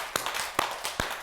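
Hand claps during a meditation teaching: three sharp, isolated claps spaced evenly, close and distinct, in a quiet room with faint background between them.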